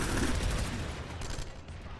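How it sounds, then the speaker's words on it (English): Grenades exploding amid a dense crackle of gunfire in a PlanetSide 2 tournament battle on Hossin, loud and continuous rattling blasts that thin out toward the end. "Grenades are going off."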